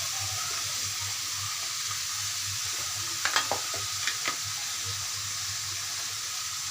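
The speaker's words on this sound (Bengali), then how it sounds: "এগুলো এখন আমি ভালো করে এটার সাথে মিশিয়ে নিচ্ছি।" Gourd and shrimp frying in a pan as cumin, garlic and ginger pastes, salt and turmeric are stirred in, a steady hiss with a low hum beneath and a few brief spoon clinks midway.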